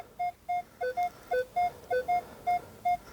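A Minelab X-Terra Pro metal detector sounding a series of short, clean high-pitched target beeps in a steady rhythm, close and clear over faint outdoor background.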